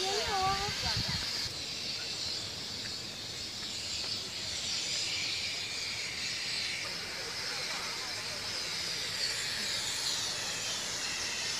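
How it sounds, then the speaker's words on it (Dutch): Steam hisses out of the ground in a geothermal area of a national park with a continuous, loud, breathy rush. A brief voice is heard at the start. "En je hoort het spuiten. Water, het stoom komt uit de grond."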